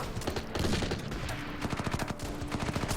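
Battle gunfire from the strategy game Order of Battle: Winter War, with a steady, rapid stream of overlapping shots that continues throughout.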